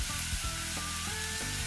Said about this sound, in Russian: Добавляем немного растительного масла и первым выкладываем жариться мясо.